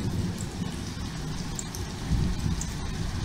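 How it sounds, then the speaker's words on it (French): Small hailstones pelting down in a summer storm, a dense continuous patter at steady loudness with a low rumble underneath and brief swells, no voices. "ce sont des grêlons, hein, voilà, des petits grêlons"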